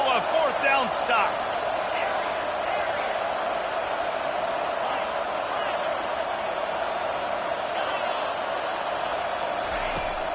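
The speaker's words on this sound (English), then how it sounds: "This crowd busting the decibel meter and trying to will a fourth down stop." Stadium crowd in College Football 25 roaring steadily and loudly, trying to will a fourth-down stop, a continuous wall of noise with a sharp burst at the start.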